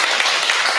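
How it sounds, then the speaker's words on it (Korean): Brief burst of a church congregation clapping during a Sunday service in Jeonju, a steady wash of many hands heard close and continuous for the whole moment. "이럴 때는 좀 박수 쳐도 괜찮아요?"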